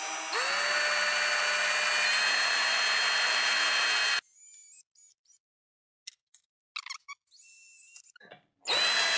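A power drill boring rivet holes in sheet metal for a homemade ACES II ejection seat replica: a loud, steady high whine for about four seconds, then near silence broken by a few small scattered clicks and a short burst at the end.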